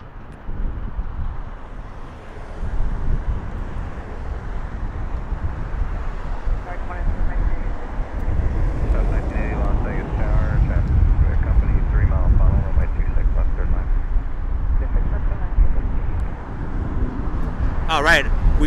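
A Southwest Airlines Boeing 737 jet airliner at Las Vegas Harry Reid International Airport rumbles with a deep, rising roar that builds and swells under wind buffeting, with voices talking over it.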